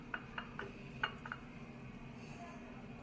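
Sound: putting the lid on a cooking pot of khichdi

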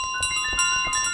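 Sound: golden bell ringing, from video game Untitled Goose Game

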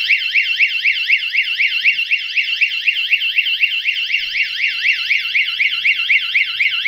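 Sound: GSM security alarm system hooter buzzing

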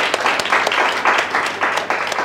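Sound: class applauding the class leader

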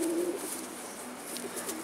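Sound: pigeon cooing

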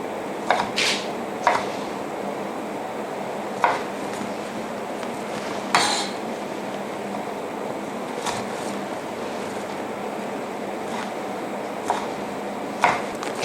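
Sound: knife dicing vegetables on cutting board

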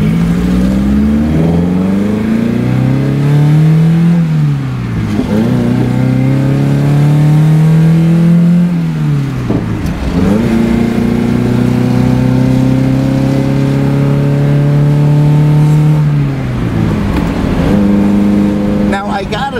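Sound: Chevrolet Cosworth Vega engine revving at high RPM

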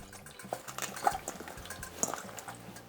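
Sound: water draining from salted radish for kimchi

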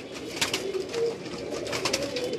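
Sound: pigeon cooing

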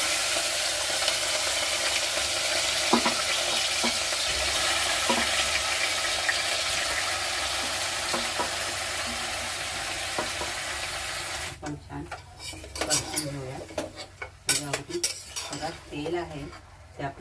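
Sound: marinated mutton added to hot oil, sizzling

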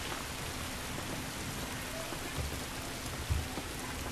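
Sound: rain falling in the video game The Last of Us

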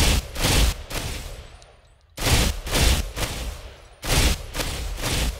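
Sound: burst-fire gunshots in Ghost Recon Phantoms video game

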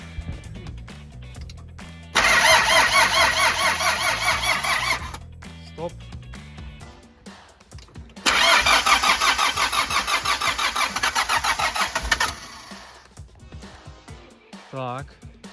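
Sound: rebuilt Mitsubishi 4D56 diesel engine being started

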